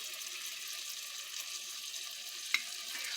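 Melted butter bubbles softly in a pot as a roux base, giving a quiet, steady sizzling hiss with a single faint tap partway through.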